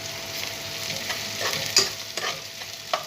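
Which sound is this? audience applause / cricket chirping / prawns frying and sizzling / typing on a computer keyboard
prawns frying and sizzling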